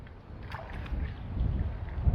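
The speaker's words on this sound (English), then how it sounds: "This wind's not helping at all today." Strong wind buffets the microphone beside a lake during a carp fishing session, a steady low rumble that builds and gusts louder toward the end, with no voices.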